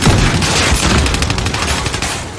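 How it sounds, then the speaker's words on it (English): A frag grenade explodes in a Call of Duty match, a loud close blast with a rolling, crackling burst of noise that fades out over a couple of seconds. "Frag out."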